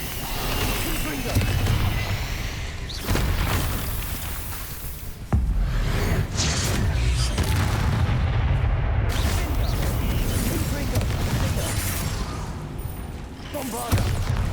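Confringo spell blasts in Hogwarts Legacy, repeated heavy booming impacts and fiery bursts in a dense, loud battle, with sharp onsets punctuating a continuous roar while voices shout spell names.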